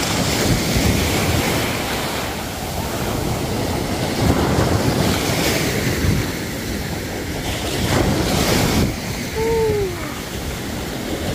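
Sea waves wash steadily onto the shore at Pattaya, mixed with gusting wind, a continuous loud roar for the whole stretch with no talking.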